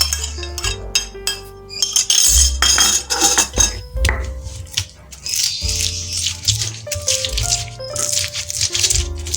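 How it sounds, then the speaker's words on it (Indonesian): Garlic and bird's eye chillies pounded with a stone pestle in a stone mortar for Garut-style sambal cibiuk, giving a steady run of close, sharp clinks and rattling knocks, with no voices. "untuk awalnya kita ulek bawang putih dan cabai rawitnya"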